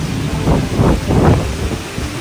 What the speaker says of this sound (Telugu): వర్షం పడుతుంది, చాలా పెద్ద గాలి.